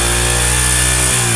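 A 2023 Honda CD 70 motorcycle engine runs loud and close, a steady buzzing idle with a constant low drone and a brief dip in pitch near the end.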